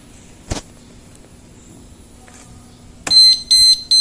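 A motorcycle alarm disc lock set off by tapping: two sharp taps on the motorcycle are followed by loud, rapid electronic warning beeps in short repeated bursts.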